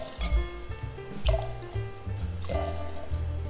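Prosecco pours into a large glass with gurgling, bubbly splashes and a few drips, rising and falling in short surges at close range.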